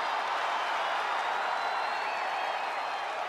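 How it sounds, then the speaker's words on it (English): A large wrestling arena crowd roars in a loud, sustained ovation as a wrestler makes her entrance, a dense wall of cheering and clapping that holds steady throughout. "Listen to this ovation."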